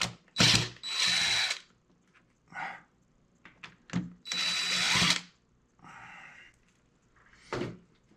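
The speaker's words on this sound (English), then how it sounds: "First I gotta unscrew him" Drill unscrewing a horse armature from its base, several short whirring bursts with a ratcheting edge, close and loud, separated by quiet gaps and small clicks.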